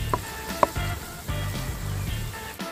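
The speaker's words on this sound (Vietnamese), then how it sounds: "Để đây mình tiếp tục mình xào." Lemongrass sizzling as it is stir-fried in a pot for Vietnamese duck curry, steady frying crackle with intermittent scraping and stirring knocks, close and fairly quiet.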